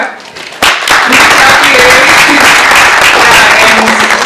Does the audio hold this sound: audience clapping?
yes